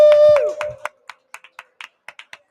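Scattered, sparse claps from a small live audience at a bar show, a handful of separate hand claps spaced out after a whistle-like tone and a brief shout.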